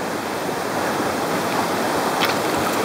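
River water rushes and washes steadily around a person sitting in it to cool off in 40-degree heat, a dense, close, broadband flow with brief splashes, no talking.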